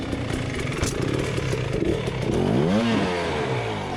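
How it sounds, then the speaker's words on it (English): Gas Gas EC300 two-stroke dirt bike engine running close by at a race, a steady raspy drone with choppy revving and a rising, falling pitch sweep near the end, no talk. "This is a Gas Gas EC300 that I got from Let's Ride Power Sports in Idaho, and it is running great"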